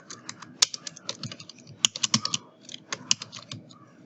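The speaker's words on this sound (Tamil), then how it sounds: "இப்போ வந்து நம்ம எல்லாத்தையும் டைப் பண்ணி முடிச்சிட்டோம்" Fingers type on a computer keyboard while text for a wedding design is entered in Photoshop, giving rapid, irregular clicks and sharper key taps close to the mic in a quiet room, with no speech.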